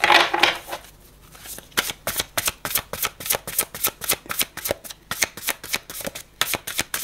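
Tarot cards being shuffled by hand: a fast, steady run of crisp riffling snaps, close and loud, continuing almost without a break and with no talking.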